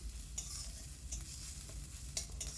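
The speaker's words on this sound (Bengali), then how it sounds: "এর মধ্যে গ্রেট করা আদা দিয়ে দিলাম আর গ্রেট করা রসুন দিয়ে দিলাম আবারও একটু নেড়ে চেড়ে নেবো" Onion stir-fried with grated ginger and garlic over high heat gives a soft, continuous sizzle with a few brief scraping stirs, fairly faint and close, with no voices.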